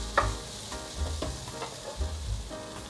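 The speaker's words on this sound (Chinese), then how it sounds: "继续再翻炒2分钟左右" White radish stir-fried with cashews, white pepper and salt in a pan, giving a steady close sizzle with periodic scraping strokes of the spatula every second or so, no voices.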